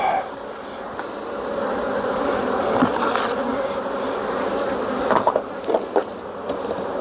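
A dense, steady swarm of honeybees drones loudly throughout during a hive inspection, with a few sharper buzzes passing close by near the end.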